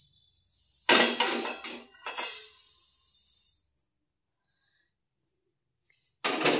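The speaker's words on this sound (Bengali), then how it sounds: "এবার আমি একটু গ্যাসটাকে বন্ধ করে এটাকে একটা পাত্রে ঢেলে নেব, একটু নেড়ে নিই।" Roasted sesame seeds tip from a metal pan into a bowl with a gritty, rattling pour and scraping stir lasting a few seconds, then quiet before a short burst of clatter at the end.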